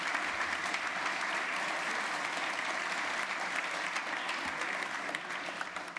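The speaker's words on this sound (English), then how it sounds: "Can we give him a round of applause?" Audience at an evening book talk applauding steadily, a dense, even wash of many hands clapping throughout.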